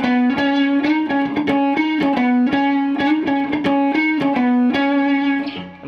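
An electric guitar with effects plays a riff at full speed, a quick run of rhythmic picked notes in a steady, repeating pattern, loud and up close with no talking.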